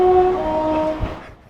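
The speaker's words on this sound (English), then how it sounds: "So our train is now driving past and he's going to back into the yard." A 22-carriage freight train rolls past with a steady low rumble and a sustained tonal hum that drops away, leaving a brief thump before the sound fades near the end.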